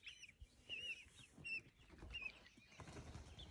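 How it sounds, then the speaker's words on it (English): A chicken makes short, strained squawking calls, a few scratchy attempts at a crow, faint against a quiet barnyard background. "Did I hear somebody trying to crow?"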